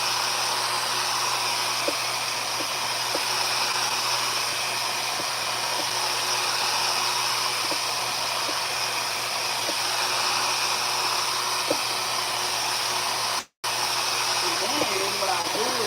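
A RevAir reverse air hair dryer runs with a continuous, steady whooshing roar close by, cutting out for a brief moment near the end before resuming.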